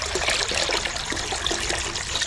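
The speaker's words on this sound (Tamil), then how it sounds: "அதுக்கு நம்ம கேன் தண்ணி ஊற்றிக்கிறோம்." Water pours from a can in a kitchen while potatoes are being cooked, giving a steady, close splashing trickle that runs continuously without pause and with no talking over it.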